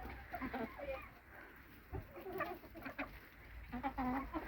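Chickens and young roosters in a snowy farmyard cluck and call in short, scattered bursts, some near and some farther off, over a quiet outdoor background.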